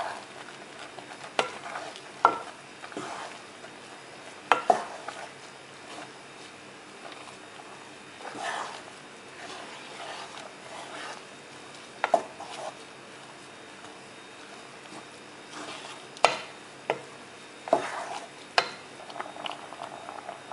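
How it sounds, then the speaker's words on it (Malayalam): Rice soup being stirred in a pot after a coconut and cumin paste goes in, with scattered spoon scrapes and soft knocks over a low simmering hiss, the strokes irregular and close. "നമുക്കിത് നന്നായിട്ട് ഇളക്കി കൊടുക്കാം."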